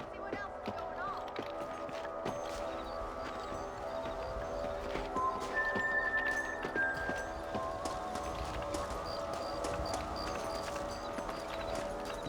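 Rhythmic horse hoofbeats clatter steadily beneath a busy Red Dead Redemption soundscape, with faint background tones and occasional sharp clicks throughout.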